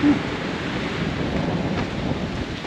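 Wind gusts by the sea at Marmaris in November, a steady broad rushing hiss with surf-like wash, close and fairly loud, no talk.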